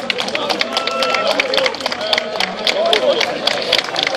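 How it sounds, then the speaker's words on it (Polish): Applause and cheering from the audience at the IEM 2015 cosplay contest final, with dense, steady clapping mixed with crowd noise and voices for the whole stretch. "Wielkie brawa dla Dravena!"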